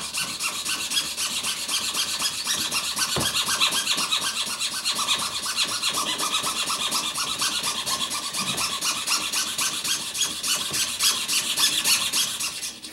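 Fine jeweler's saw blade cutting pearl for a guitar inlay, a continuous rapid up-and-down rasping with steady rhythm, close and fairly loud, with no voices.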